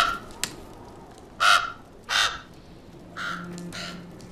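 Crows cawing in a few loud, separate calls spaced about a second apart, over a low, quiet background with no talking.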